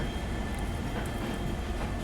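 Sairang Rajdhani Express rolling along in rain near New Jalpaiguri, a constant dense rumble of train wheels and carriages at close range, unbroken for the whole stretch with no speech.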